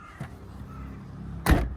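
A power window on the door of a 2008 Chevrolet Captiva seven-seater runs on its electric motor, with a soft motor whir followed by a louder closing thud near the end, heard close by with no talking.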